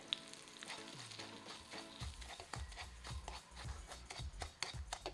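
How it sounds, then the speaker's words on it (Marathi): Fine semolina roasting in a spoonful of ghee over low heat, a soft steady sizzle under repeated scraping and stirring strokes against the pan, close and fairly quiet. "एक चमचा एवढं तूप टाकू आणि बारीक गॅसवर आपण रवा असं खमंग भाजून घ्यायचा आहे"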